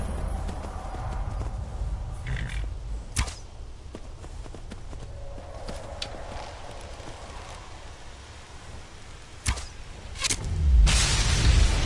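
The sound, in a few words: horse hooves clip-clopping in a video game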